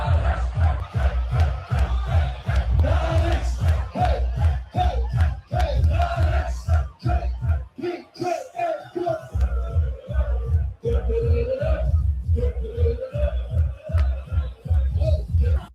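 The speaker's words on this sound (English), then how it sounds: "In the Netherlands, they do this chant where they all stand up and they kind of like wave." Dutch football crowd chanting in unison in a stadium, a loud continuous mass of voices with a steady rhythmic beat of claps or stamps running through it and a brief dip near the middle.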